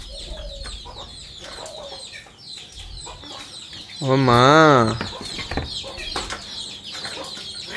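An Alexandrine parrot gives one loud, harsh, wavering call in the middle, standing out above a quieter background, with brief human speech nearby.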